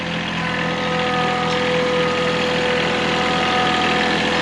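A tractor engine runs steadily on a homestead farm, a loud, continuous mechanical drone with a faint knocking texture that holds throughout, with no talking.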